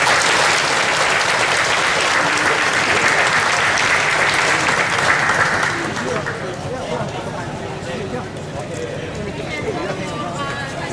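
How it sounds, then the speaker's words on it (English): Crowd applause at the Hmong Wausau Festival, loud sustained clapping from a large outdoor audience that thins and drops in level partway through, with faint voices and murmuring continuing underneath. "please one more round of applause for the president of North Central Technical College"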